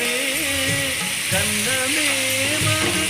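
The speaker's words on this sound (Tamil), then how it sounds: "வெங்காயத்தை நல்லா வணக்கிடலாம்" Onions and tomatoes sautéing in a pan for Tamil-style tomato chutney, a steady close sizzle with scraping stirs, alone without talk.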